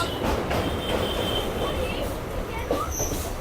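A crowded Bongaon–Majerhat local train rumbles along near Dum Dum, a loud steady rolling drone from inside the carriage with faint wheel squeals and passengers talking over it.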